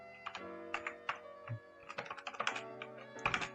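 Typing on a computer keyboard during a Python programming lesson: a quick, uneven run of close, crisp key clicks with short pauses between bursts, with no voice heard.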